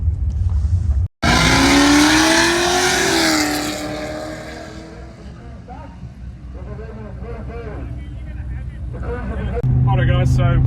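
Budget drag car launching down the strip on a drag racing pass, a sudden loud roar that climbs steeply in pitch, holds, then fades as the car pulls away, followed by quieter engine noise and another engine swelling near the end.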